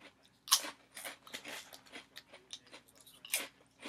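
Crunchy midnight snack being eaten close up, a handful of crisp crunching bites followed by quieter chewing, irregular and alone without talk.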